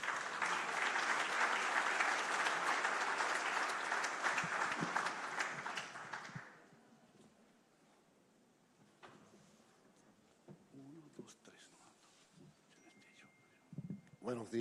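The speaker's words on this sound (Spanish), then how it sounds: "Lo recibimos con un fuerte aplauso" Loud audience applause fills a hall at a national congress on access to justice, then breaks off sharply, leaving quiet room tone with a few soft murmurs and rustles.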